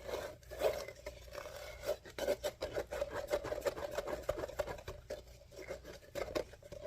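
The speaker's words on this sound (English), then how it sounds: "so I'm just going to scrape it back in." Wet concrete is scraped back into a mould for concrete pots, making close, gritty rasping strokes in a quick uneven rhythm, steady and moderately loud without speech.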